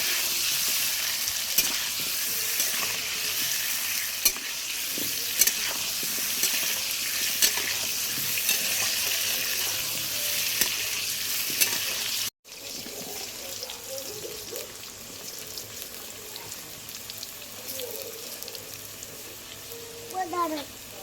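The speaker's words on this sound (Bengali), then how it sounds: "হ্যাঁ, এটাকে সুন্দর করে আমি ভেজে তুলে নেব।" Large chunks of potato seasoned with salt and turmeric fry in oil, a dense, even sizzle for the first half, then a quieter, thinner hiss with scattered faint clinks and brief background voice traces.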